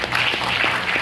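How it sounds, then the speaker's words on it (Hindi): A short burst of audience applause at a leadership masterclass in Nagpur, dense steady clapping from a room full of people. "वेरी गुड, तालियां पहले तो आप सभी।"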